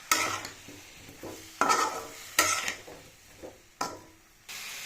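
Potatoes and cauliflower frying with salt and turmeric in a pan, a low sizzle broken by about five sharp scraping stirs at irregular intervals, near and moderately loud with no talking.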